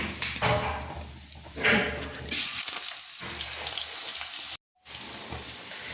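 Hot ghee sizzles for a khichuri tempering with a loud, hissing crackle that rises and falls. A voice can be heard faintly underneath, and the sound drops out briefly near the end.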